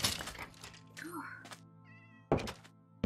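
A cat in Minecraft meows once, a clear drawn-out call between bursts of game sounds and a thunk, with a person talking around it.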